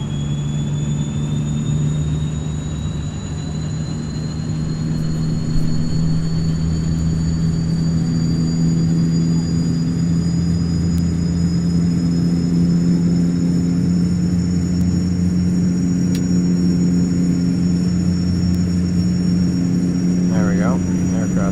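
A Carenado Saab 340B turboprop engine in a flight simulator spools up, a steady loud whine climbing slowly in pitch over a constant low propeller drone, with a voice talking briefly over it.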